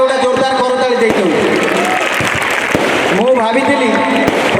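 Audience applause at a stage show, a dense crowd clapping continuously, with a loud amplified voice speaking over it and sharp percussive hits.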